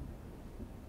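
Acid rain falls with a low rumble of thunder in the video game Anno 2070, a brief, faint, steady wash of rain and rumble with no voices.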